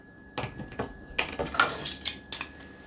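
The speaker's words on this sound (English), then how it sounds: "This is my ground cumin. I'm going to put in a teaspoon of that." A teaspoon of ground cumin being added, heard as several close, bright metallic clinks and taps of a spoon against a container, spaced irregularly over a few seconds.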